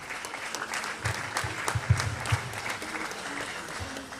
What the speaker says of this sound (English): Shall we sustain the applause?